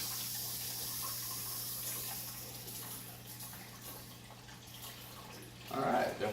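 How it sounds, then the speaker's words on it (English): Water runs from a fully open valve into a hose during weekly maintenance, a steady, faint rushing flow that swells briefly louder near the end. "I've got the valve open completely now. Running full pressure. Just fill it up."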